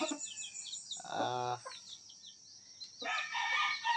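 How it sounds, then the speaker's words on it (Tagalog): A native chicken rooster crows once, a clear, fairly close call with a stepped rise and fall, followed by other fowl calling and clucking nearby against steady background birdsong; no talking. "So mga native ra ni, native chicken lang ni siya."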